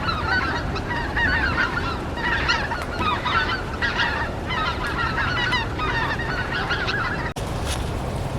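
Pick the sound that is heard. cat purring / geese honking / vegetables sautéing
geese honking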